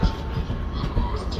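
A British Class 67 diesel locomotive rumbles past at close range, a low steady drone with rhythmic rail clatter over a short span; a voice is faintly audible.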